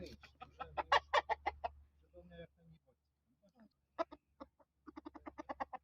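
A rooster clucks close by in a farm setting, several quick bursts of throaty clucks separated by a short pause, with a steady low hum underneath.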